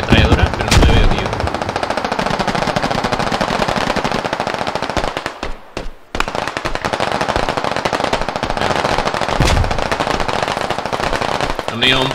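Sustained machine gun fire in the military shooter game Squad, loud and close, rapid bursts running almost continuously with a brief pause midway before the firing resumes.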